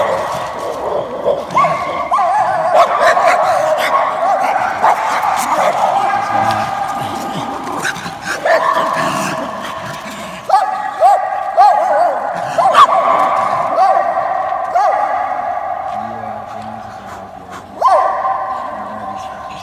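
Several dogs bark, yip and whimper in an abandoned housing project in China, repeated barks near and mid-distance in irregular bursts, with people talking at times over them.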